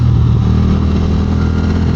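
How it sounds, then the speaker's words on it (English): Steady, loud engine and road roar from a motorcycle riding along as a line of cars passes, a continuous wash of traffic and wind with no break. "A whole line of cars."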